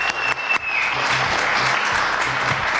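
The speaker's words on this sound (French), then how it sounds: "On l'applaudit très très fort." Studio audience gives a loud, continuous round of applause for a guest on a French news-style show, dense clapping filling the room with a brief whistle near the start.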